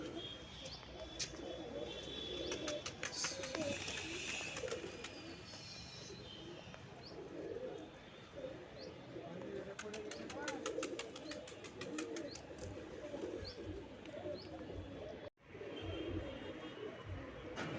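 Girabaz pigeons from Rajshahi cooing in soft, repeated low calls, with chirps and brief wing flutters around them and a voice talking off and on at moderate distance.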